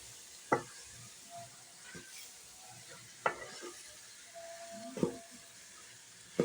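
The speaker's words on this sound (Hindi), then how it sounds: "घिया कद्दू जो हमने फ्राई करके रखा हुआ है वो डाल लेंगे। अच्छी तरह से इनकी भुनाई कर लेंगे।" Bottle gourd and chana dal fry in a pan with a soft, steady sizzle, broken every second or so by sharp scrapes and clinks as a spoon stirs against the metal.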